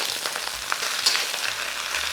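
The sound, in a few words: stir-frying cabbage and shiitake mushrooms in a wok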